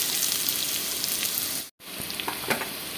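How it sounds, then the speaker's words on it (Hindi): Ingredients sizzle and fry steadily in a pan, a soft continuous crackle with a brief silent gap partway through and no talking. "इसको भून लेती हूँ 2 मिनट तक।"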